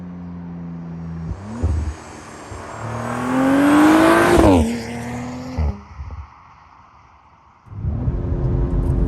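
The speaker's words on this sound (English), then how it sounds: "let's get back on the road and stretch this Audi RS5's legs" An Audi RS5 Sportback accelerating hard on the road, the engine note climbing steeply through a gear to a loud peak, then a brief shift and a drop to a quieter cruise before the revs rise again.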